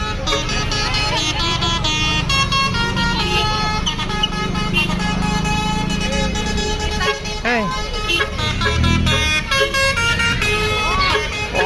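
Indonesian telolet horn on the Titan Putri Selatan bus at a roadside stop in Ciamis, a loud melodic multi-tone horn played in bursts over crowd noise and voices, with a deep engine rumble beneath.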